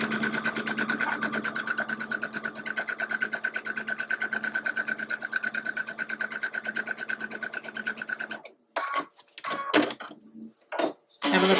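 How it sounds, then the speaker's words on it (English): Sewing machine running a quarter inch seam along the bottom of a house quilt block, a steady rapid stitching whir for about eight seconds, then stopping into a few short bursts and handling noises. "sew 1 more along the bottom. Quarter inch seam allowance all the way down."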